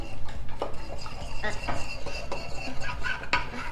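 Spoon or utensil stirring a cornstarch mixture in a dish, with repeated scraping and clinking strokes at close range under a steady background hum, no clear talk.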